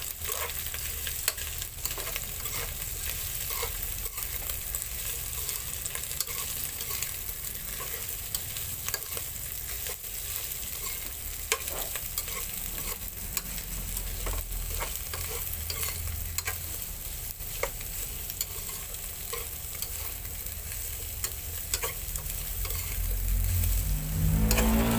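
Chicken gizzards for adobong pinatuyo are stirred as they fry in a pan, giving a steady close sizzle with scattered scraping taps that swells louder in the last few seconds; no one speaks.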